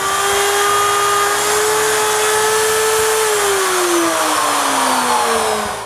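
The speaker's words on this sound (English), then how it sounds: "I drill straight holes on the interior side of the tabletop with my mortising machine." A mortising machine bores holes into a wooden tabletop, a loud steady motor whine with a strained drilling drone that slowly dips in pitch as the bit bites, continuous and close.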